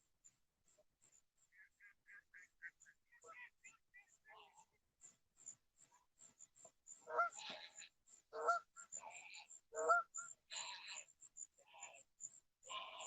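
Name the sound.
birds calling at night: geese, duck, heron, seagull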